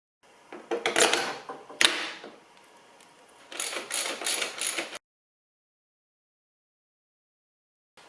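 Front wheel being refitted on a Yamaha FZR motorcycle during fork seal work: two close bursts of metallic clattering and rattling parts, a pause, a second clatter, then silence.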